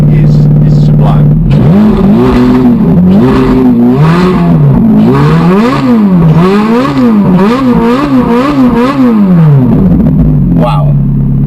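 A Ferrari Novitec Rosso supercar engine blips and revs repeatedly, rising and falling in quick loud bursts, close and aggressive, with a brief voice near the start and end.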